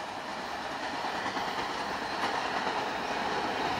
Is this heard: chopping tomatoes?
no